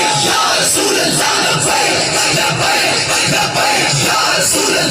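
Large crowd at a religious rally chanting slogans in unison, a dense, loud roar of many voices with rhythmic swells sustained throughout.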